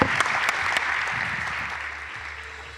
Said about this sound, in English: if I could ask everybody to join me in an applause for the panel